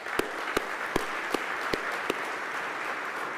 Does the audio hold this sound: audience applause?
yes